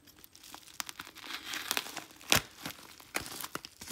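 Crinkling and tearing of packaging as a mail package of EDC gear is opened, with close crackly rustles and a few sharp tearing bursts, one loudest near the middle.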